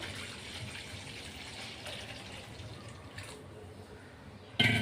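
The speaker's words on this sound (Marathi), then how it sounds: "गरम पाणी टाकतोय आपण" Hot water is poured into a container, a soft steady splashing flow that runs at moderate level, then a brief louder clatter right at the end.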